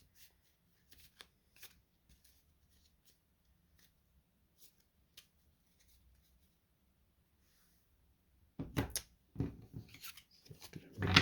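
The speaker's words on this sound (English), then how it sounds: "Do a little card shuffle here." Cards for a tabletop baseball game being handled: quiet scattered ticks and slides for several seconds, then a close, loud burst of riffling shuffles at the end.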